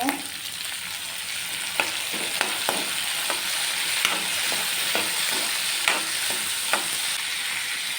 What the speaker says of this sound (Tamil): வெங்காயம் பூண்டெல்லாம் ஓரளவுக்கு வதங்கிடுச்சு